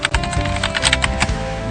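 Fingers type quickly on a computer keyboard, a close, dense run of crisp keystroke clicks with uneven rhythm, no one talking, over a faint steady hum.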